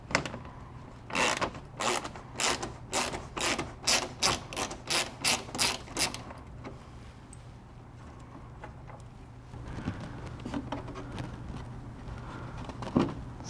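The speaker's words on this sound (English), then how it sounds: "we're going to have to remove this one 10mm bolt" A ratchet wrench removes a 10mm bolt behind the fog light of a Toyota Corolla, giving about a dozen close, crisp clicking pulls in a steady rhythm, then quieter fiddling with the part.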